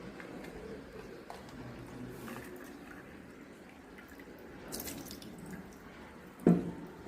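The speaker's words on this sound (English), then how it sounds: "So now let's pour water into them." Water trickling and dripping as it spurts from holes in a glass, with a faint running-water wash building midway and a brief louder splash near the end.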